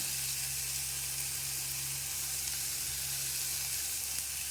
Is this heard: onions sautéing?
yes